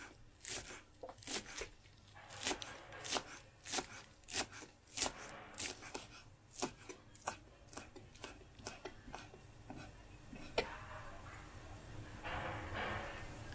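Spring onions being chopped into small pieces with a knife on a board, a run of sharp, fairly close rhythmic chops at an uneven pace, then a softer stretch of rustling at the end; no talking.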